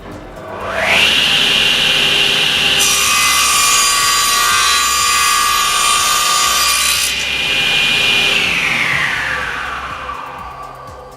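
A SIP professional cast iron 10-inch table saw rips through a wooden board, its motor whine rising as the blade bites in, holding a loud steady cutting roar for several seconds, then spinning down alone.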